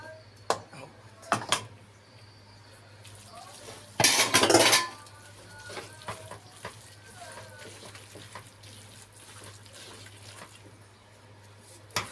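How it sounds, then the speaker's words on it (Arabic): Peppers and filling ingredients are stirred together in a bowl, giving scattered clinks and scrapes of a utensil against the dish, with one louder rattling burst midway. Faint talking can be heard in the background. "خلاص كده احنا قلبنا المكونات كلها مع بعض"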